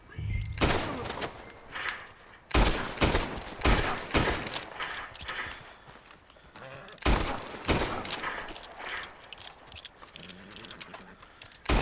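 Gunfire rings out in the Western video game Red Dead Redemption 2, with sharp shots and bursts coming in clusters over about twelve seconds, some loud and close, under occasional voices.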